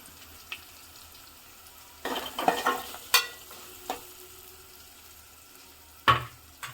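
Tempering of chilli, onion and turmeric in a pan, a quiet background with sudden loud sizzling bursts and stirring scrapes, several sharp spikes spread across the clip, no talking.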